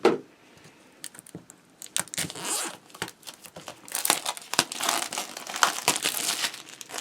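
Plastic wrap crinkles and crackles as it is torn off a White Numen playing-card deck. The rustling comes close and in irregular bursts that grow busier toward the end, with no talk.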